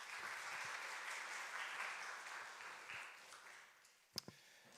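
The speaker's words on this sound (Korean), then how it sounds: "따뜻한 박수 부탁드리겠습니다." Audience applause at a corporate training program showcase, a faint, steady wash of clapping that fades out near the end, followed by a couple of brief knocks.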